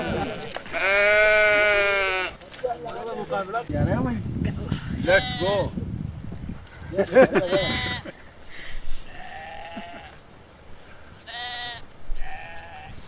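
Sheep bleat repeatedly near a mountain climbing camp in the Karakoram, loud wavering calls sounding over and between people talking.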